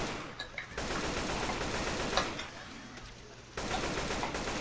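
Gunfire in the video game Left 4 Dead, a dense, continuous rattle of shots with a brief drop near the end before the firing resumes, fairly faint overall.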